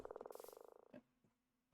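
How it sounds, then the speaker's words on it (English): A Minecraft frog croaks in a rapid run of about twenty evenly spaced pulses, then gives a few isolated softer croaks with quiet gaps between, no speech. "Oh, there's a frog."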